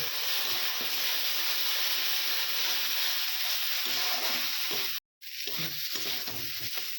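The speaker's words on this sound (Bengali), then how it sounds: "এটা কষিয়ে দিব।" Mustard and poppy seed paste sizzles and is stirred in a hot pan while fish is being cooked, a steady close frying hiss with scraping, briefly cut off near the end before resuming.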